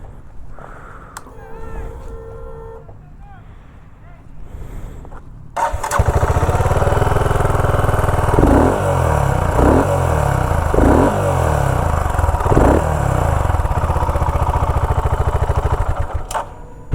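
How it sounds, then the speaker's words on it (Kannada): A BSA Goldstar 650 motorcycle, a 650cc bike, sits quiet under a low background hum, then fires up loudly and settles into a thumping idle broken by several sharp throttle blips, close and alone. "ಸೊ ಎಕ್ಸಾಸ್ಟ್ ನೋಟ್ ಒಂದು ನೋಡ್ಕೊಬಿಡೋಣ ಹೇಗಿದೆ ಅಂತ"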